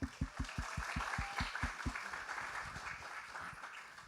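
At a recognition ceremony for international students at Mt. SAC, audience applause rises, with a few close claps over a soft, continuous crowd patter that fades out.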